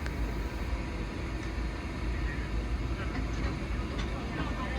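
An Amtrak Northeast Regional train pulls into New Haven Union Station with a steady, broad rumble of wheels and car noise heard from inside, unbroken and fairly loud throughout.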